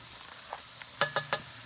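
Vegetables sizzle softly in a pot of Cuban ropa vieja during deglazing, then three quick, bright scrapes of a spoon across the pot bottom cut through the hiss.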